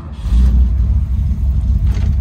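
A 1968 Mercury Cougar XR7 engine starts and revs, a loud, close, deep rumble that swells and holds for a couple of seconds with no talking.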